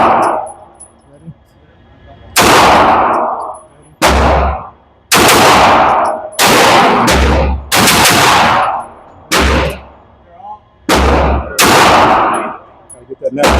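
Bursts of rapid gunfire at an outdoor shooting range from handguns including a MAC9, about nine loud close strings of shots separated by short pauses, echoing sharply.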